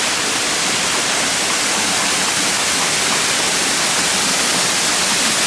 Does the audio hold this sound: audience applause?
no